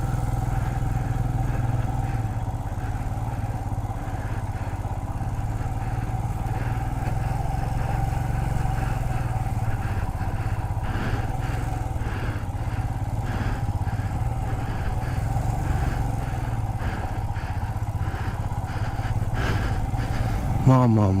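Motorcycle ridden on a road in Ladakh between Diskit and Pangong, its engine a steady, loud, close drone throughout, with a rider's voice over it.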